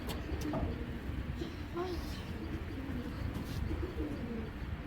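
Giribaz pigeons cooing in a cage, a mother and daughter pair with the female making a vibrating display, low repeated coos close by over steady background noise.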